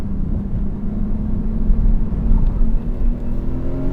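A Nissan R32 Skyline sports car engine hums and rumbles steadily at close range while accelerating, low and smooth with mild swells in pitch as it pulls, no voices over it.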